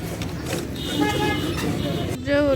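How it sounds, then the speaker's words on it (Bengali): Congested road traffic in Bangladesh with buses and cars honking repeatedly, several horn toots rising over a busy rumble while people talk nearby. "এই যে দিক দিয়ে গাড়ির প্রচুর জ্যাম"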